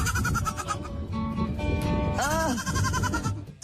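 Baby goats bleating, several high wavering cries in quick succession with one longer bending call in the middle, close and loud over a busy background.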